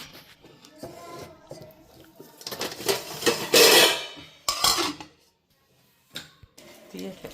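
A lid is set onto a pot for making popcorn, giving a couple of metallic clanks and rattles amid kitchen handling noise, with a person talking over parts of it.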